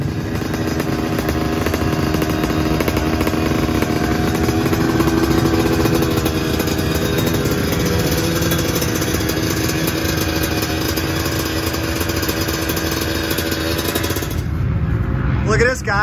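A classic 125 two-stroke motocross bike idles and buzzes in a steady, raspy drone close by, running continuously before cutting out near the end as a voice speaks.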